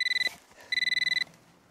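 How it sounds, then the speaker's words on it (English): A mobile phone rings in an office during a meeting: two bursts of a rapid, steady electronic trill with a gap between them, fairly loud and close, with no talking over it. "Oh, sorry. That's my phone."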